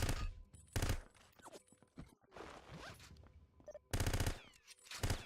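Loud bursts of automatic gunfire in the 007: Everything or Nothing video game, short rapid volleys separated by quieter stretches of softer shots and clatter.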